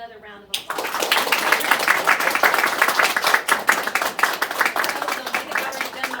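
Audience applause breaking out after a brief spoken line at a school biography presentation, dense and steady clapping that holds through the rest of the clip.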